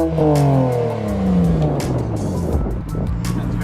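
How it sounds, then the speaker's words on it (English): A BMW 335xi with its muffler deleted revs up close by in several rising and falling throttle blips, the exhaust note climbing then dropping in a raspy, fairly loud drone. "give me some revs so I can actually get it on video"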